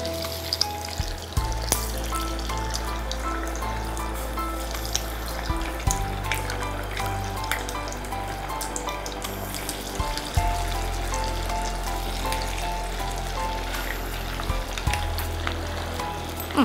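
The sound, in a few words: frying beef vada in hot oil in iron pan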